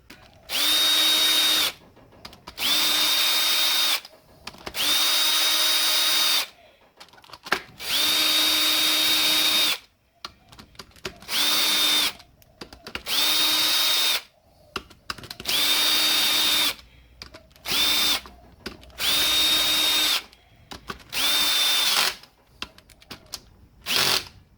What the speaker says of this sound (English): I'm just going to use my drill.